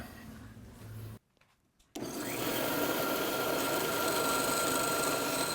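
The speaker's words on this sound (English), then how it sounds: "Now I'm going to take that over to the bandsaw and cut that." A bandsaw cuts wood for the skeg of a TotalBoat Sport Dory. A quiet stretch and a brief near-silent gap give way to a steady, loud whirring and rasping hum that holds evenly to the end.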